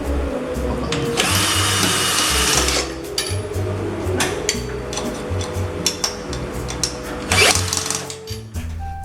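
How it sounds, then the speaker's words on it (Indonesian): A power drill drives screws into a stainless steel clothes drying rack from Informa: a loud whirring run of about three seconds, then a quieter stretch with small knocks, and another short whirring burst near the end. "tinggal dikenceng-kencengin aja untuk paku bornya kayak gini"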